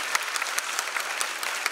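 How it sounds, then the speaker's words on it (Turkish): A crowd at a children's theatre graduation show claps in a brief, fairly soft burst, with individual hand claps audible through a steady patter. "Bu ekibe bir daha bir kocaman alkış istiyorum."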